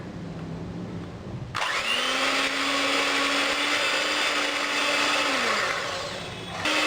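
An electric beater mixes sugar and butter for chocolate chip cookies, switching on with a jump into a loud steady whir that holds for several seconds, then winds down briefly before restarting.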